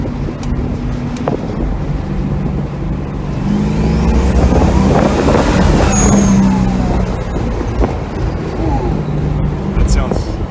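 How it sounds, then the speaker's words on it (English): A turbocharged small-block Chevy engine in a Mazda RX-7 rises and falls in a loud drone on a test drive at 7 psi boost, with the turbo's whistle building over heavy wind rush inside the moving car. "Turbos! Sounds pretty neat."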